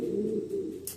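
Pigeons coo in a pigeon loft, a low, steady, throaty cooing heard up close and alone for about a second.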